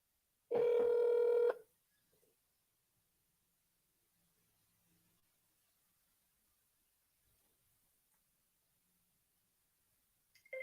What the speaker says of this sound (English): Is it dialing?